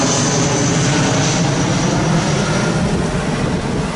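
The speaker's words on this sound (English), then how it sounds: "There goes a smaller plane" Small propeller plane flying overhead near Myrtle Beach airport, a loud steady engine drone that holds close and constant throughout, with no voices.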